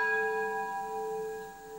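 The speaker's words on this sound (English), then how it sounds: "the Lutein bell tolled this morning" The Lutine bell at Lloyd's of London tolls with a steady, sustained ringing tone that hangs in the air without pause, moderately quiet and alone.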